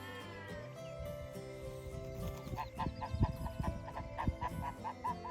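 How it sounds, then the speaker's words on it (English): Several white geese honk repeatedly from close by, a loud, rhythmic series of nasal calls over a busy outdoor background. "looks like there's a few geese coming"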